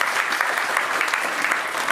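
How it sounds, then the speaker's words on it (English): An audience at a college seminar on software development and AI in Bangalore claps in a steady, dense burst of applause filling a hall. "Can I give a big round of applause for him?"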